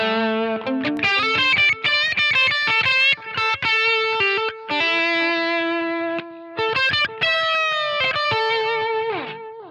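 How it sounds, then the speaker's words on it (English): Electric guitar notes through a Line 6 Helix delay set to quarter-note sync, mix around 26% and feedback 22%, ring out with each phrase repeating in echoing trails as the melody moves along, loud and continuous. "Okay, the delay, very simple."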